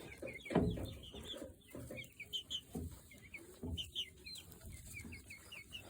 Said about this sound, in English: Here's the chicks. They're getting bigger.